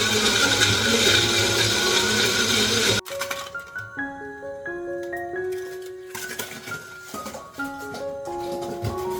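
A blender purees medium-size tomatoes in a home kitchen, giving a loud, steady whir for about three seconds before cutting off abruptly. Soft melodic background music follows on its own.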